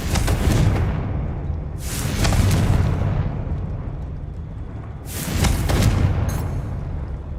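Fire spell explosions from the Confringo curse in Hogwarts Legacy: loud, booming blasts with long rumbling tails, three big bursts spaced a few seconds apart over continuous roaring.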